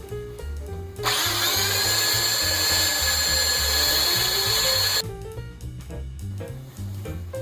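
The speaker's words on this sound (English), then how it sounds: "I'm just going to turn to the belt sander and have a go at it." Belt sander grinding against the end of a natural-edge silver maple bowl: a loud, steady high-pitched whine with abrasive hiss that runs continuously for about four seconds, flanked by quieter workshop motor hum before and after.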